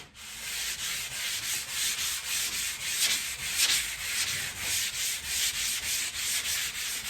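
A 1955 Chevy body panel being block sanded by hand with 180 grit sandpaper: steady, close, rhythmic back-and-forth rasping strokes, about two per second, with no talking.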